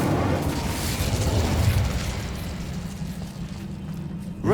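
Incendio fire spell cast in Hogwarts Legacy on PS5, a sustained roaring whoosh of flame with a low rumbling body that holds steady and slowly tapers, loud and close with no talking.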